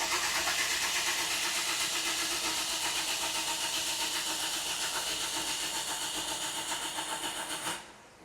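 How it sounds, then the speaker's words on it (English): The starter cranks a Toyota Corolla with a dead misfire across cylinders 1 to 4 during a compression test, throttle held down, giving a steady rhythmic churning for about eight seconds before it cuts off abruptly. "Now it wants us to crank the engine."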